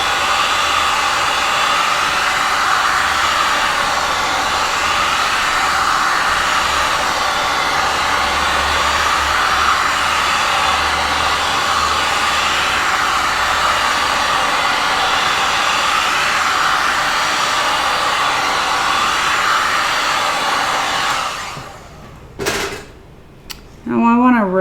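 A hot air blower warms resin poured through a colander, giving a loud, steady whooshing hum for about twenty seconds before it cuts off. Brief clatter and handling noises follow.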